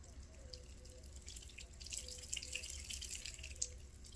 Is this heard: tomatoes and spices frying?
no